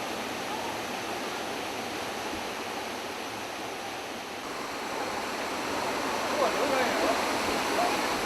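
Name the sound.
waterfall pouring down a high mountain precipice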